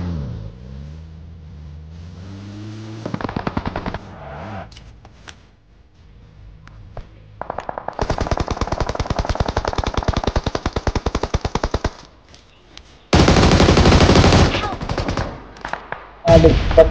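Automatic gunfire in the PUBG Mobile battle royale game, with loud rapid bursts around the middle and a dense volley near the end, alongside vehicle engine noise and voices talking at the start.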